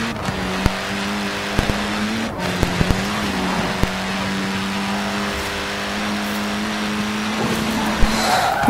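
A car in the racing video game Forza 4 drives with a sustained steady engine drone and occasional sharp clicks and tire noise, loud and close throughout.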